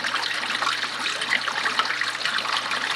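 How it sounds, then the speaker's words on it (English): Water from a sink hose pours into a trash can for an aquarium water change, a steady, hissing, splashing rush that stays even and fairly loud throughout, with no voices. "I got the trash can filling with water"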